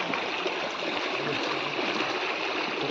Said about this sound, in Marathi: त्या वाहत्या पाण्यामध्ये